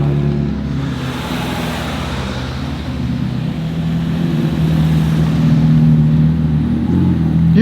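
A car passes close by at a motorweek event in Newport, its engine a steady loud rumble that swells toward the end, with no talk.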